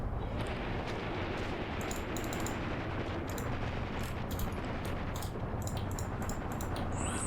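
Rapid gunfire in the tank battle video game Graviteam Tactics, a steady wash of distant rumbling shots with sharper crackling bursts scattered throughout, no talking.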